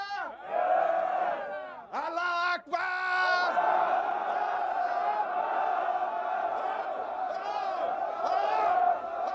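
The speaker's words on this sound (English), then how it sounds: "with Roger shouting, "God is great," in Arabic, the stone lurches forward" A group of men haul a giant stone while shouting "God is great" in Arabic, with loud, drawn-out shouts in unison, a brief break, then a long sustained collective yell.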